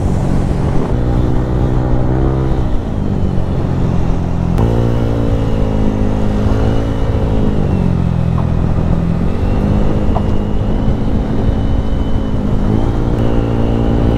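A motorcycle rolling through night traffic, its engine droning loudly and continuously with shifting harmonic pitch as it speeds up and eases off among surrounding cars.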